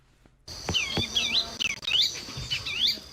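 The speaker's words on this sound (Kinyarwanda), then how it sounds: "Amajwi y'inyoni zidagadura mu cyanya cy'ubworozi n'ubuhinzi cya Yohani Neretse" Birds chirp and tweet on a livestock and crop farm, repeated bright whistled calls from a few birds, fairly close and clear, starting after a short silence and continuing over faint background hum.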